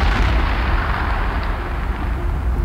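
Sustained, loud, rumbling explosion effect representing the Big Bang at the birth of the universe, a dense roar that fills the whole span without a break and carries no speech.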